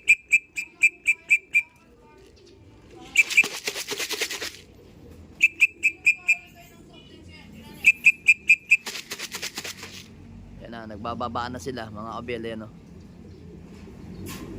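Pigeons descending to roost, with bursts of wing clapping and flutter interrupting a series of sharp repeated whistle pips, while someone talks over the birds toward the end.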